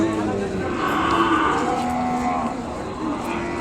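A calf gives one drawn-out, low moo lasting over a second, close by, against steady background noise.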